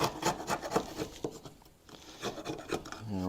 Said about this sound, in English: slick this frame up a little bit, get some of this old wax off here.